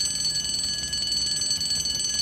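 A 1970s alarm clock rings steadily with a continuous shrill metallic bell, loud and unbroken for the whole stretch, with no voices over it.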